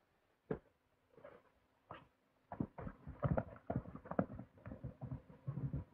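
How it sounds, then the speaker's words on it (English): Horse hooves clip-clop on hard ground as a rider approaches, a few spaced steps at first, then a quicker, louder cluster of hoofbeats coming closer. "Someone who rides El Mafra's horse is approaching"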